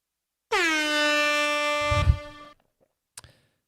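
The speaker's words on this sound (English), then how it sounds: "Sick air horn." A single loud, sustained air horn blast sounds for about two seconds, cutting off abruptly, followed by a couple of faint brief knocks.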